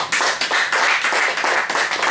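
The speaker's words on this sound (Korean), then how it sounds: "하나님께 영광의 박수 드리겠습니다" A church congregation claps together in sustained, fairly loud applause, a dense patter of many hands with slight swells in intensity and no talking over it.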